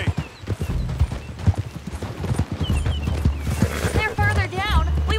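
Horse hooves clip-clopping in the video game Red Dead Redemption 2, a steady rhythmic trot of hoofbeats close by, running under game music and a voice, with a horse whinny or snort late on.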